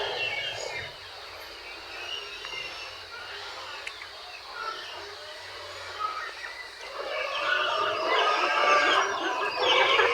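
Farmyard chickens, including young pullets and Plymouth Rock birds, clucking and calling in a steady background chorus that swells toward the end, with soft talk underneath.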